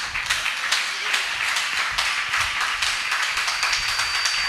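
A church congregation claps during a Christian sermon, a dense patter of many hands with scattered sharper slaps, fairly loud and continuous across several seconds without speech over it.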